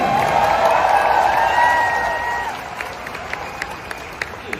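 A crowd at a political rally for Duterte supporters claps and cheers loudly, with a sustained tone running through the din. The applause drops off after a couple of seconds, leaving scattered claps and crowd noise.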